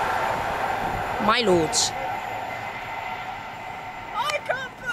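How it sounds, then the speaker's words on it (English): A passenger train pulls into Bushey station on the West Coast Main Line, its steady rumble and rail noise filling the scene with brief whistle-like squeals on top, while people talk nearby. "Here comes our train."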